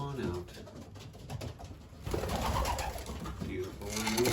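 Young racing pigeons cooing softly near a loft landing board, low murmuring calls mixed with rustling, while a person talks nearby.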